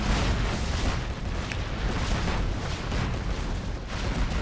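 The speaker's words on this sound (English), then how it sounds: "Scud launcher with a nice hit." A Scud missile strikes and explodes in Command & Conquer Generals during a Tank versus GLA match, producing a loud, dense roaring blast that rumbles on steadily without a break.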